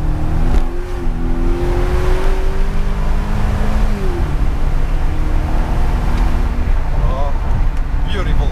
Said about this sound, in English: Oh, beautiful sounding V8.